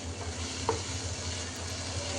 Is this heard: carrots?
yes